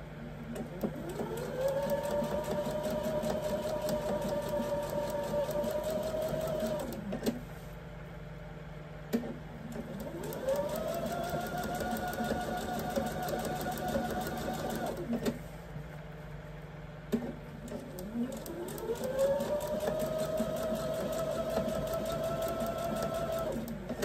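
Sewing machine stitching a fabric hot pad in three separate runs of several seconds each, a rapid whirring hum rising in pitch as each run starts, quiet and close with short pauses between.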